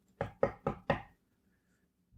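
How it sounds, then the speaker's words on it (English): Four firm knocks on a door in quick succession, close and loud, followed by near silence and a faint low sound at the end. "So I'm going to knock."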